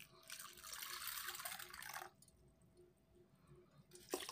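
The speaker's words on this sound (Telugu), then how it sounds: "దీంట్లో కూడా నీళ్ళు పోసుకో." Water gushes from a pour onto dried horse gram set to soak, a steady splashing rush for about two seconds, then quieter trickling and a small clunk at the end.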